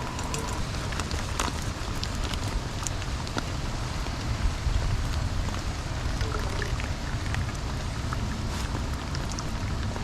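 Steady rain falling at a riverbank campsite during a rainstorm, a dense continuous patter with occasional sharper drips on nearby surfaces, constant and fairly loud, with no voices.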